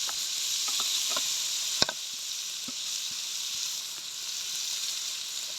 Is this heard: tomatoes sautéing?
yes